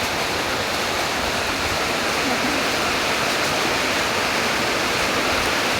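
Heavy rain pours onto a tin roof in a village, a dense, steady roar of drumming that stays loud and even from start to finish.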